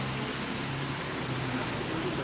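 Heavy rain in Idukki, a dense, steady hiss of downpour with no break, close and loud throughout.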